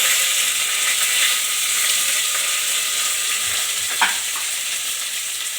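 Mustard seeds, onion and curry leaves fry in hot oil with a steady, bright hiss, while a spoon stirs through them and gives a single sharp clack near the end; close, no talk.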